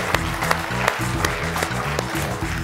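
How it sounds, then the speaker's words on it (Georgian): Studio audience applause on a Georgian comedy game show welcomes the next contestant, a steady burst of clapping that carries on throughout, with music underneath. "აპლოდისმენტები."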